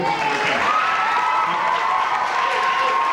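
Audience at a 5th grade graduation giving a round of applause for the graduating boys and girls, steady and fairly loud clapping with some cheering and crowd voices mixed in.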